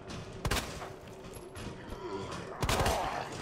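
Two sharp, loud gunshots from the Resident Evil 2 Remake video game, about two seconds apart, each ringing out briefly over a low, murky game ambience.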